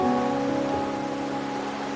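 Rain falls steadily in the video game Wuthering Waves, a dense, even hiss of drops spread across the scene under a faint tonal background, with no voices.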